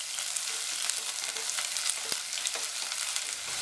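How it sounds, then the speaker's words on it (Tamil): Sliced onions sautéing with whole spices in a pan of hot oil give a steady, close sizzle, with faint scraping of a stirring spoon and one brief sharp tap partway through. "அடுத்து 2 மீடியம் சைஸ் வெங்காயம் நீல வாக்கில் கட் பண்ணதை சேர்த்துட்டு வதக்கிக்கலாம்."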